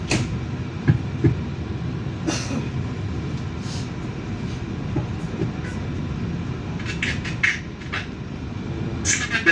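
Kahuripan passenger train rolling past on rails, a steady broadband rumble with faint rail clicks and occasional squeal-like high tones, moderately close and continuous.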